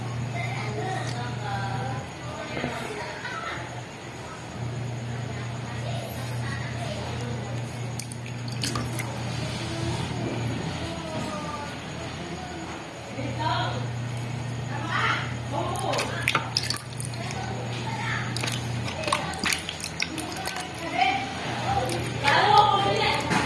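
A spoon stirs grout in a container, making wet, squishy scraping and sloshing sounds over a steady low hum, with voices now and then.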